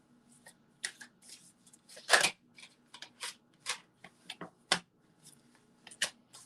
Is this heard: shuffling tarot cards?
yes